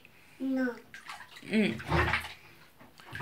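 A toddler plays in bath water during bath time, with sloshing and splashing bursts under an adult's nearby speech and a child's brief vocal sounds.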